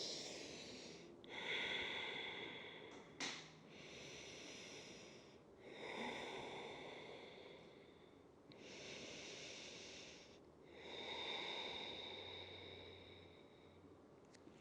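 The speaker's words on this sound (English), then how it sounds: "Take another 3 deep breaths here." Slow, deep breaths during lotus-pose yoga practice, with long audible inhales and exhales alternating in a steady rhythm, close and quiet with no talking.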